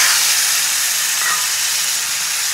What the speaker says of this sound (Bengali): ফোড়নটা আমার মোটামুটি ভাজা হয়ে গেছে। এবার আমি এর মধ্যে টমেটো কুচিটা দিয়ে দেবো।